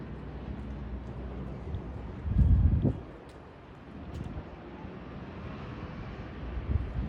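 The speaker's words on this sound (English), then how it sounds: "Very windy today." Wind gusts buffet the microphone outdoors on a windy, cloudy day, a continuous rushing roar with a sharp low-frequency burst near the middle before settling back.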